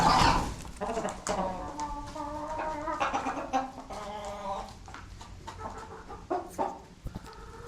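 Chickens cluck in a series of short, irregular calls, close and moderately loud, with a faint voice underneath at times.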